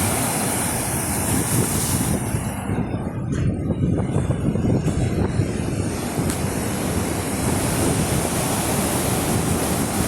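Sea waves break on the shore at Dwarka in a loud, continuous surf roar, mixed with wind buffeting the microphone, with one brief lull partway through.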